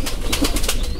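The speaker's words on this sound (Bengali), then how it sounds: "এই হলো 4 নম্বর কবুতর, দোবাজ, সবজি দোবাজ।" A sabji dobaj pigeon gives a brief, close, soft cooing call, heard alone.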